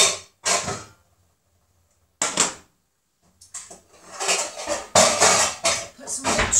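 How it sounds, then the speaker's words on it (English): A saucepan pulled out in a home kitchen: sharp metallic clanks and knocks of pans and lids in separate bursts, then a quick run of louder rattling clatters, close and distinct against near silence. "So what we will do is we will get a pan."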